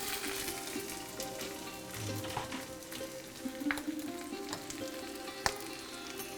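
Wild Oregon steelhead pieces fry Kerala-style in a covered pan, giving a steady, close hiss of sizzling oil with scattered pops and crackles throughout and no voices.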